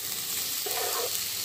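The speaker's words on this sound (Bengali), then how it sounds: "খুব ভালো করে এটাকে আগে একটু ভাজা ভাজা করে নেবো।" Kochur loti (taro stolons) frying with spices in a pan, a steady, even sizzle throughout with a brief brighter burst of crackle partway through, no voices.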